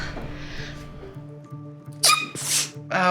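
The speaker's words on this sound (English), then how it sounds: "sneezing has got to stop" Two or three sharp sneezes burst out in quick succession near the end, loud and close over a soft background music bed, following a quieter stretch.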